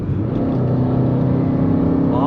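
A modified diesel Maruti Brezza with a Stage 2 Plus tune and air suspension, its loud exhaust droning steadily and close up throughout.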